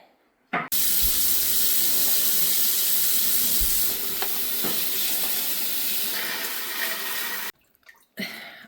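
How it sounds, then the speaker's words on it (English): Water from a tap pours loudly and steadily into a sink while cabbages are washed, a close hissing flow with faint handling knocks, cutting off near the end before a brief splash. "I'm just going to give these cabbages a bit of a wash."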